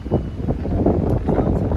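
Blustery sea wind buffets the microphone in a low, steady rumble with gusty surges, loud and continuous, with no voices.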